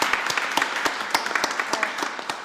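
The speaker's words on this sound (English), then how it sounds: "So a big round of applause for all the volunteers." Audience applause at an event, individual claps standing out as distinct sharp hits over a softer bed of clapping from a modest crowd, close and steady for the whole short stretch.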